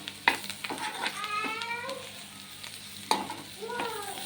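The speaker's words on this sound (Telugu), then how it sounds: "కొత్తిమీరని కూడా నేను వేసుకుంటున్నాను. తిప్పేస్తున్నాను." Curry stirred in a pan after fresh coriander goes in: a steady close sizzle with spoon scrapes and taps, while a cat meows repeatedly nearby.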